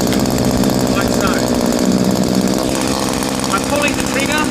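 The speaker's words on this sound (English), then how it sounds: "Allow the saw to warm up a little bit" A PCH25 chainsaw's small engine idles as it warms up, a steady buzzing drone that stays loud and close the whole time, with someone talking over it.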